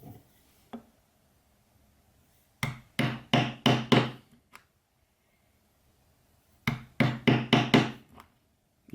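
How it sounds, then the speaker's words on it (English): Hammer blows drive a stitching chisel through leather in two quick clusters of about five sharp, close strikes each, with quiet pauses between the clusters. "These top ones I will still do with the stitching chisel."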